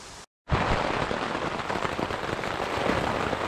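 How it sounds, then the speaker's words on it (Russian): Heavy downpour pounding down around a solitary wilderness overnight camp, a dense, loud, continuous roar of rain that starts abruptly after a brief silent gap and holds steady with no voices. "Пошел жуткий ливень."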